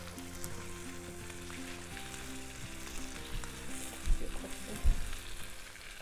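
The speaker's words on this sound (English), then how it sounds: "So we're going to saute this for about 5 minutes." Sweet wild pepper sautés for goat meat fried rice, giving a steady close sizzle and hiss from the pan, with a few soft stirring knocks near the end.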